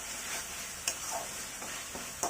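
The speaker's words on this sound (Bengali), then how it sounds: "এগুলোকে আমি খুব ভালোভাবে কষিয়ে নেব যতক্ষণ পর্যন্ত না এর কাঁচা গন্ধটা দূর হয়" Onion, ginger and garlic frying in a pan for chicken biryani, giving a soft steady sizzle with a few light clicks of stirring, quiet and close with no talking.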